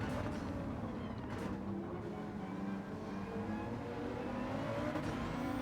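Renault 5 Turbo race car engine in Gran Turismo 7 at Sardegna, a continuous droning engine note under full throttle with shifting pitch, steady and moderately loud throughout.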